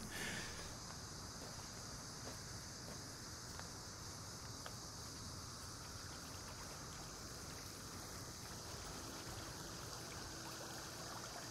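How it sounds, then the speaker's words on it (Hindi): Steady, faint rushing of flowing water fills the scene, with a soft insect-like buzz above it and no voices. "पानी की आवाज सुन रहा हूं मैं"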